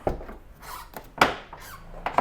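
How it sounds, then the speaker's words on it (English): A Jeep door with freshly tightened hinge bolts swings and shuts, giving a few soft creaks and knocks around a sharper, louder clunk midway, close by with no talking. "The door just kind of shuts now."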